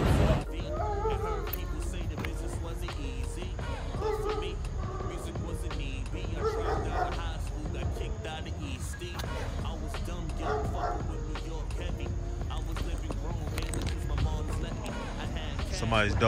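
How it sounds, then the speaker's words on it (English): A dog, with Rottweilers nearby, barks in the distance, faint and intermittent beneath steady outdoor background noise and nearby talking. "Somebody's dog's over there barking."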